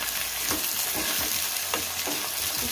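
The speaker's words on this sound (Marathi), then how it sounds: "छान परतून घ्यायचे आपल्याला" Vegetables sautéing in a pan for a traditional Bhogi mixed-vegetable dish, with a steady hiss of frying, and a spatula stirring and scraping at irregular intervals over the sizzle, close and moderately loud, no talk.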